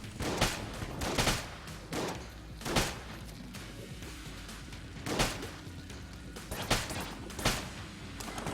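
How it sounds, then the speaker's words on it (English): Shotgun blasts ring out in the game Enter the Gungeon, about nine sharp loud bangs spaced irregularly with quieter ambience between shots. "Okay, reload our shotgun here."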